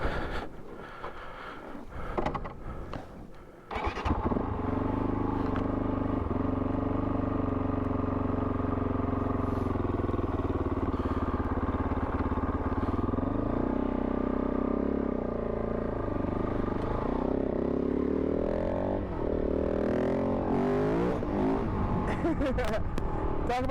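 A Kove 450 Rally motorcycle loaded with bags rides along: a brief pause, then a loud, steady engine drone that rises and shifts in pitch with the throttle and carries on to the end.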